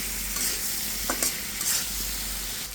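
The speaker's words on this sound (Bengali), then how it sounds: "এটাও একটু মশলার সাথে নেড়ে চেড়ে কষিয়ে নিচ্ছি" Spices are stirred and fried with hilsa fish and pointed gourd in a pan, giving a steady broadband sizzle with a few soft scraping stirs. The sound is close and continuous, with no voices.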